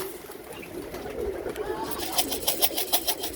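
A loft of about 21 Birmingham Roller pigeons coos softly while being fed a cupful of food, with low murmuring calls and a run of sharp, rhythmic taps or flutters building toward the end, close and moderately loud.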